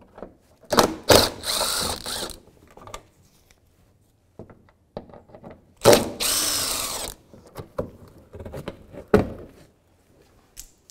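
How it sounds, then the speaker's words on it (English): Ratchet with a 10mm socket backing out fender well screws on a GMC Yukon XL: two long runs of quick, close clicking separated by quieter handling noises and light taps. "So now we're going to disconnect the last two screws holding this fender well in right here"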